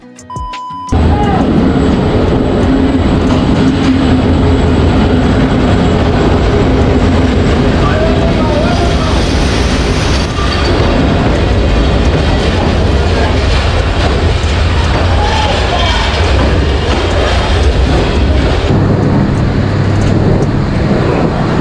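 Paharika Express passenger train rumbling past on the rails, a loud, continuous roar and clatter that fills the whole stretch, with faint background voices from the station crowd.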